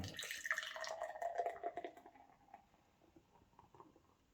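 Opillia beer is poured into a glass, giving a soft gurgling splash and fizzy patter that starts fairly close and fades to quiet crackles of foam.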